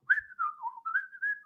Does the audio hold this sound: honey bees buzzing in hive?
no